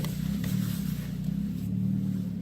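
A 1986 Ford Mustang idles with a welded-together exhaust, giving a steady low rumbling drone that stays close and even throughout, with no talking.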